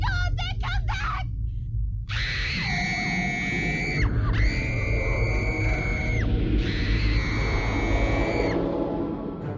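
A woman screams in hysterics, loud, shrill and sustained, in long wailing cries broken by brief breaths, following a few short sharp shrieks at the start.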